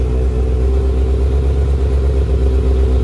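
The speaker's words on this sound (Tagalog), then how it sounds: "maganda dito sa Kalkal Pipe, yung idle niya mahina" A Honda CB650R motorcycle with a Kalkal stock pipe idles nearby, a steady low rumbling burble with an even pulsing beat, loud and alone throughout.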